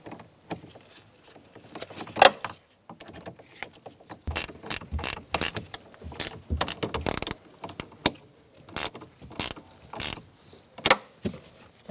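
A ratchet wrench tightens the positive battery terminal on a 2005-2010 Chrysler 300, producing irregular bursts of close, crisp clicking with short pauses between strokes and no talking.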